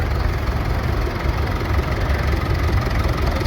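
A vintage tractor engine idles steadily at an outdoor agricultural show parade, a continuous low rumbling throb with no break, fairly loud and near, with no talk over it.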